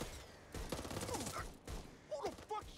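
Gunfire in the co-op shooter Back 4 Blood beta: a few sharp bursts of shots break in over a nearby voice, loud and close.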